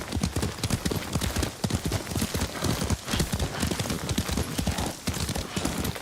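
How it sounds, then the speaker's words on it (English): Steady clip-clop of horse hooves while riding in Ghost of Tsushima, an even, rapid rhythm running throughout at close range with a brief whinny, and no talk over it. "Lord Sakai taught me to ride a horse."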